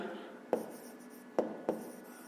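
A pen writes a math solution by hand on paper, giving a faint, close scratching with three sharper taps spaced across the stretch.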